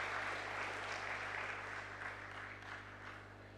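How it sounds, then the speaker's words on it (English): An audience at a peace convention's closing plenary gives sustained applause, a steady wash of many hands clapping that is heard at a distance over a low constant hum. "Let's give a round of applause again for the Character and Creativity Initiative"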